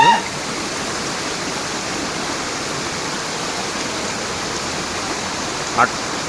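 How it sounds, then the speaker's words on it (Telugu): A steady, dense roar of a forest waterfall near Vijayawada fills the whole stretch, loud and close, with no breaks. "అడవిలో దాగున్న అద్భుతమైన రహస్యమైన జలపాతం"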